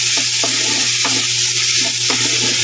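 Tomatoes drop into a hot pot for sinigang sa miso, a steady loud sizzle running throughout while a utensil scrapes and stirs in several distinct strokes.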